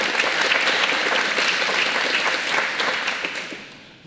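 Audience applause at a YMCA annual dinner, dense clapping from a crowd that holds steady and then fades toward the end, with no voices over it.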